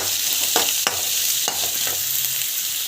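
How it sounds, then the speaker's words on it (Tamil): Onion and green chilli sautéing in a pan: a steady, loud, close sizzle of frying with several scraping strokes of a stirring spoon, no voices. "பார்த்திங்கன்னா வெங்காயம் ஆட் பண்ணிக்கலாம். அப்புறமா பச்சை மிளகாய் ஆட் பண்ணிக்கலாம். நல்லா வந்து வதக்கிக்கலாம்."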